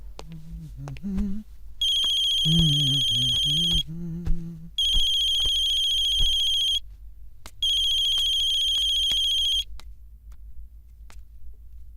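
A telephone rings three times in a Bollywood action movie, each ring a bright, loud electronic trill about two seconds long with short pauses between. Low murmuring and brief vocal sounds come before the first ring.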